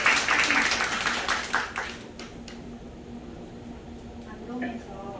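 A room of attendees at a business meeting applauds to welcome the next presenter, the clapping loudest at first and then thinning out into scattered claps over low room noise.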